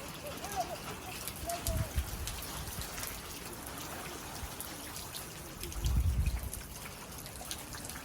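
Steady rain patters and drips nearby on a homestead at milking time, with soft low thumps of movement now and then and a faint voice in the background.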